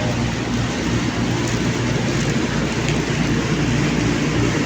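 Steady, heavy rain at night pours in a continuous broadband hiss with a low rumble underneath, no voices, unchanging throughout.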